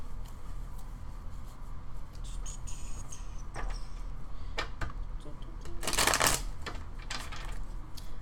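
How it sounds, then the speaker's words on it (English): Tarot cards riffle and shuffle close by, a soft papery clatter with a louder burst of flicking partway through. "I'll shuffle these again."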